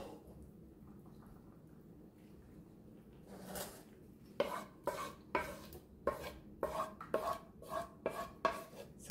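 Chicken mixture scraped into a pot of warm rinsed macaroni, a quiet start followed by a series of sharp, evenly spaced utensil scrapes and clanks against the pot, close by.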